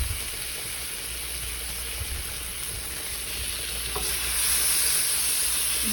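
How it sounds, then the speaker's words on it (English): Lamb searing in melted butter in a hot pan makes a steady, close sizzle that holds on its own and swells slightly louder toward the end. "Adding my lamb to sear."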